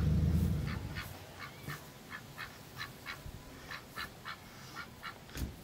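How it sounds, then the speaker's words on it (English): Pekin ducks quack in a temporary cage, a steady run of short, moderately near calls at a fairly even rhythm after a brief low rumble at the start, with no talking. "They're such pretty ducks."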